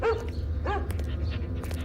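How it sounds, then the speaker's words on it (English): A dog gives two short barks, close by, with a low steady rumble of background noise underneath. "You can stream it while you walk the dog."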